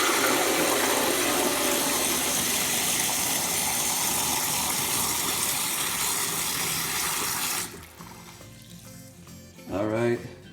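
Water gushes hard from a bathroom faucet being flushed out during a replacement, a loud steady rushing that cuts off abruptly near the end, followed by a brief voice.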